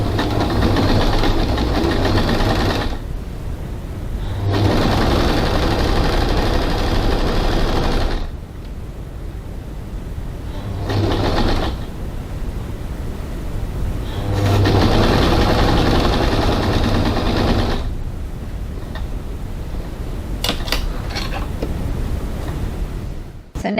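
A sewing machine stitches a 1/4-inch seam on a crossbody bag at a 2.5 stitch length, running in several loud, steady bursts of rapid needle chatter separated by short pauses.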